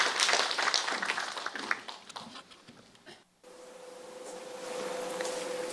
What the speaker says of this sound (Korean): 여러분 이 자리에 계시진 않지만 우리 정여 대종사님께 큰 박수를 한번 보내주시면 어떨까요?